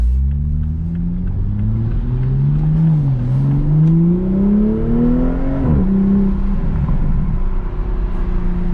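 A 2021 Toyota Supra with a JB4 tune pulls hard from a rolling start, its engine note climbing steadily through the gears with a brief dip at each shift, loud and close from inside the cabin.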